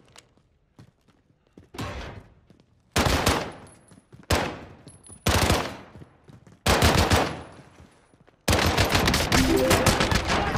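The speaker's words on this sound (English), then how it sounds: "Under hostile fire." Gunfire in Call of Duty Warzone: loud bursts of rapid shots split by short pauses, getting longer and denser toward the end and finishing in sustained automatic fire.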